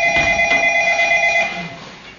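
A telephone rings with a steady electronic tone that sounds for over a second and then fades, loud and close with no voices.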